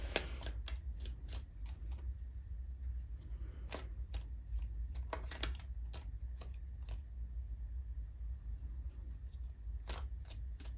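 Tarot cards shuffled close at hand, a quiet run of crisp riffles and snaps at irregular intervals over a low steady background hum, with no talking.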